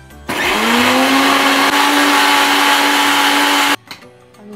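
An electric mixer grinder runs at full speed in a home kitchen grinding spices, a loud steady whine starting abruptly and cutting off after about three and a half seconds.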